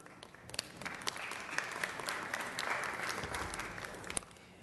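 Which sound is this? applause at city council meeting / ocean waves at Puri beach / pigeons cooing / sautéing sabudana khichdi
applause at city council meeting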